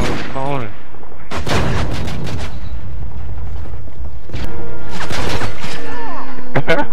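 Pistol shots and other gunfire crack in a Call of Duty MW3 free-for-all match, sharp bursts scattered across the clip amid game effects, with players talking over them.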